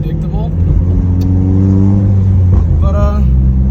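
A turbocharged 2016 car fitted with a Turbonetics NX2 kit revs hard up close, its loud engine note climbing and holding in a strong drone, briefly dipping before rising again.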